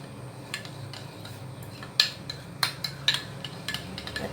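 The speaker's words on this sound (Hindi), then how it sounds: "ये मैं 1 टेबलस्पून ऑयल का डाल रही हूँ और इसको अच्छे से हम फेंट लेंगे।" Oil is beaten into a seekh kebab mixture with a knife-like utensil, giving irregular metallic clinks and scrapes against a bowl, some sharp and close, with no talking.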